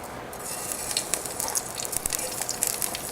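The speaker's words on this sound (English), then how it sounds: "So I'm going to add some whole cumin." Whole cumin seeds sizzling in hot canola oil in a pan, a steady crackling fry with small irregular pops, close and moderately loud.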